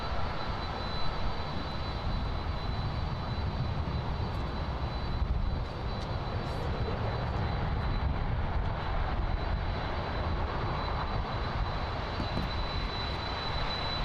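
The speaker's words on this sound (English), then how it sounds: "We have another 767-300 freighter lining up. This is a LATAM cargo." A LATAM Cargo Boeing 767-300 freighter lines up at Miami International Airport, heard as a steady, distant jet engine roar with broad rushing noise that stays even throughout.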